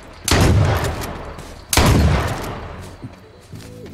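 Two loud gunshots crack from a survival shooter game, roughly a second and a half apart, each leaving a long decaying tail; a faint low hum and small clicks follow near the end.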